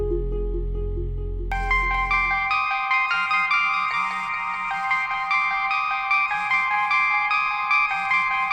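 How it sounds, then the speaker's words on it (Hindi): A phone rings late at night indoors, a bright repeating electronic ringtone melody that starts after a low tone and continues steadily, loud and close, with no talking. "इतनी रात को किसका फोन है?"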